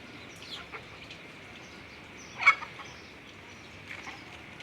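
A desi hen and her chicks cluck softly while roaming outdoors in a natural setting: a few faint, scattered calls, with one louder cluck near the middle, over quiet ambient noise.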